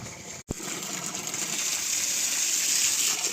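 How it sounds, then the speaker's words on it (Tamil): Water gushes steadily from the outlet of a 1700 W, 1.5-inch BLDC solar borewell pump drawing from a 320-foot bore, a loud continuous rushing flow that swells slightly, with one brief dropout near the start. "சூப்பராக தண்ணி வருது"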